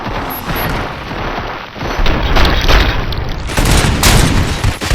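Gunfire in the video game RoboCop: Rogue City, heard as a loud, sustained fusillade of close shots and booms, growing denser and harsher midway through.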